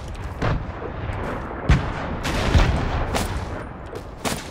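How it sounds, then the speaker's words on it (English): Grenade blasts from a squad battle-royale video game, heavy booming explosions and gunfire-like bursts rolling one after another across several seconds, loud and dense with no talking. "Is that your nades, Mo?"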